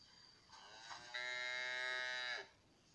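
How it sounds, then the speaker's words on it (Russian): A cow gives one long, steady moo that swells and then cuts off, close and clear against a quiet background. "Корова."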